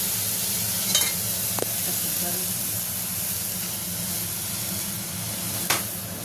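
Broken-wheat dalia khichdi with added water and garam masala being stirred together in a pot: a steady soft sizzle and hiss runs throughout, with a few sharp spoon scrapes and knocks against the pot.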